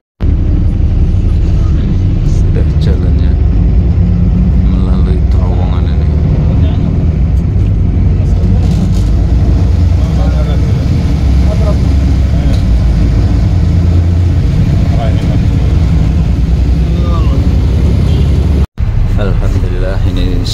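Interior drone of a bus riding through Makkah toward Masjidil Haram, a loud constant low engine and road rumble with air-conditioning hiss, with people talking over it throughout.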